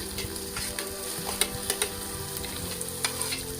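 Prawns sizzle steadily in hot oil with garlic paste while frying for a Godavari-style mango prawn curry, a constant crackling hiss broken by a few sharper pops and stirring scrapes, close and with no talking.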